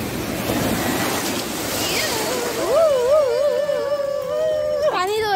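Ocean waves roll in at Arnala Beach in Virar, a broad rushing surf with wind noise that fades under a voice in the second half.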